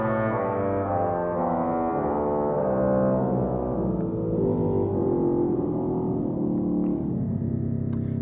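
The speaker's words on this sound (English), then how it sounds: "we added a 16-foot stop for it" Pipe organ playing a descending line on the 16-foot trumpet stop borrowed from the swell, deep buzzy reed tones stepping downward in a steady drone, loud and full with no talking.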